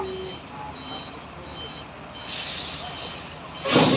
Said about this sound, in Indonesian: Ini truk yang pas didorong